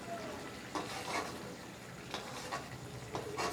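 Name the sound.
pabda fish added to boiling curry gravy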